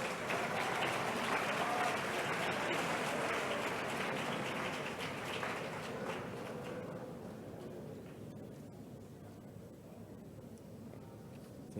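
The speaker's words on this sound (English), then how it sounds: "Dompra a round of applause." An audience at a university faculty's 40th anniversary ceremony applauds in a dense patter of clapping that holds steady, then thins and fades out over the last few seconds to near quiet.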